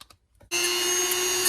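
A power tool cutting down an AX8650 battery tray for an RC crawler build: after a few soft clicks, a loud steady high-pitched motor whine starts abruptly and runs continuously.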